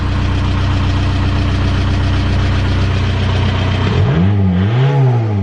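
A mechanically injected turbo diesel Volkswagen Jetta engine idles loudly and steadily, then revs up twice in rising and falling surges near the end.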